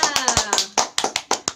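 A primary school class claps hands after a story, a run of sharp, fairly loud individual claps in an uneven rhythm with gaps, close by, while a voice speaks over the start.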